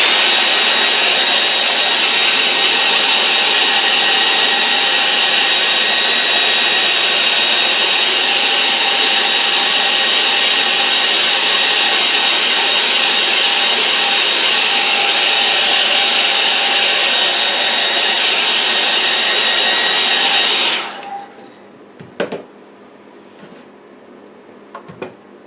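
A hair dryer blows steadily at close range over a watercolour painting, a loud continuous whoosh for about twenty seconds before it cuts off abruptly, followed by a few faint handling clicks.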